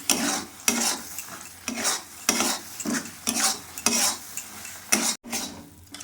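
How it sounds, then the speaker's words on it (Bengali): A spoon scrapes and stirs thick khoya with a tablespoon of ghee in a hot pan, a steady series of rhythmic scraping strokes with a soft sizzle, loud and close. "এর মধ্যে আমি 1 টেবিল চামচ ঘি দিলাম, দিয়ে নেড়ে দিলাম।"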